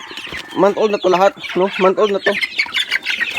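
Month-old chicks in a coop give a run of rising, wavering peeps and clucks close by, heard alongside someone talking.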